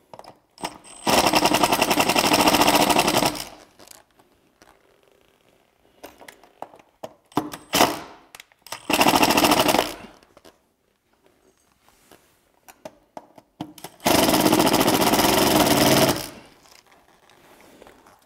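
A cordless power driver runs bolts into a fish finder mounting bracket in three loud whirring bursts of a few seconds each, with quiet handling clicks and small knocks between them.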